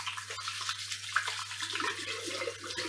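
Water splashes and runs at a bathroom sink while someone washes their face, a steady wet wash with irregular splashes and drips, close and moderately loud, with no talking.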